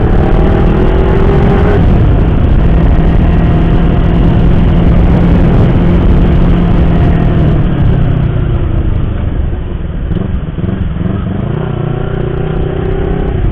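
A loud motorcycle engine drones close by as it rides downhill on a winding road toward Dieng, Indonesia, its pitch slowly falling and rising with a rough, continuous rumble.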